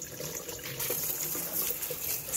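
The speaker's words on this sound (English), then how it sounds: "I'm going to use my colander and wash my vegetables again" Tap water runs steadily over arugula, a tomato, a carrot and green onions rinsing in a colander, a soft continuous splashing trickle with no talk.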